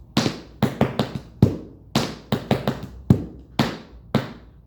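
Tap shoes strike a hard floor in quick clusters of crisp, close metallic taps, a beginner's maxi ford tap dance combination with short pauses between groups of steps.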